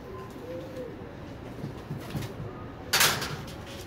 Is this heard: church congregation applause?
no